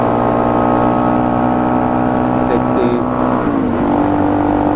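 A Suzuki DR-Z motorcycle on a new set of tires accelerates up to road speed, its engine a steady, loud drone with a pitch that shifts as gears change, heard from the rider's position under wind noise.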